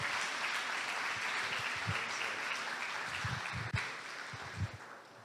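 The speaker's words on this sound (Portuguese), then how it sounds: "Vamos receber o bispo com uma salva de palmas para o Senhor Jesus." A large church congregation applauds steadily and loudly throughout, a dense wash of clapping that dips slightly near the end.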